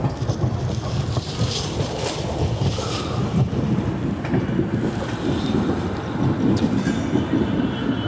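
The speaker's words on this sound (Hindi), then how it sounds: "इगतपुरी में एंटर कर रही है LTT Haridwar AC superfast express" The LTT Haridwar AC Superfast Express pulls into Igatpuri station with a steady, close rumble of rolling wheels and carriages, under a constant wash of wind noise and no voices.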